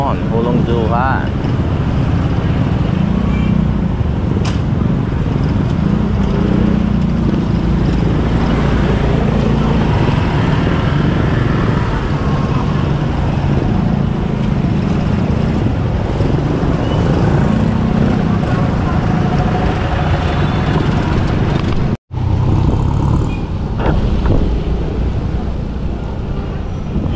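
Motorized tricycles and other traffic rumble along a rain-wet street in Hulong Duhat, Malabon, a steady dense engine and road noise throughout with talk in the background and a brief dropout near the end.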